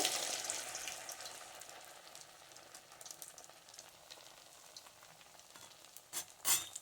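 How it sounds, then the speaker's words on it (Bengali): Pitha cakes slipped into hot oil give a soft, steady sizzle that stays fairly quiet, with faint crackles and a couple of louder clinks or spatters toward the end. "তো এরপর আমি তেলের মধ্যে পিঠেগুলোকে দিয়ে দেব"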